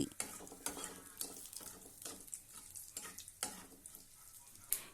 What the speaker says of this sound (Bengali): ফোড়ন কয়েক সেকেন্ডের জন্য একটু নাড়াচাড়া করে ভেজে নিচ্ছি।